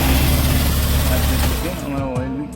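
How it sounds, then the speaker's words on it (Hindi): Honda Activa BS6 scooter engine running steadily after repair work, loud and close, then dropping off as voices talk over the fading hum. "स्टार्ट करो तो गाड़ी"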